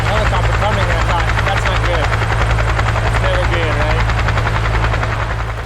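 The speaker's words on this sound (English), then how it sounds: "Crazy helicopter action." A helicopter drones loudly and steadily overhead on the John Muir Trail, its rotor thumping in a low continuous pulse, with faint voices mixed underneath.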